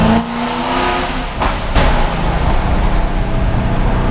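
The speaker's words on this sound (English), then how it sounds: "I'm calling you and Dirty Mac Jackpot for an official dead stop fucking smoke tune race." A car launches from a dead stop in a street race and accelerates hard, its engine roaring loudly and continuously, with a sharper surge partway through and no talking.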